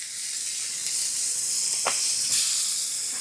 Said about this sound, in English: we're going to get all those juices steaming back up on it as they hit the coals